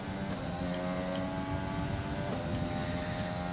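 Race car engine in the F1 2020 video game at the Austrian Grand Prix, a steady, loud droning whine that holds near constant pitch throughout, alone without voices.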